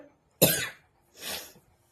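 A person with a heavy cold and chest pain coughs twice, close and alone: a sharp, harsh burst followed after a short pause by a second, softer cough.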